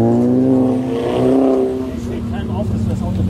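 A McLaren MP4-12C revs loudly and drives by, its engine note rising, holding, then easing off as it passes, with some talk mixed under the engine.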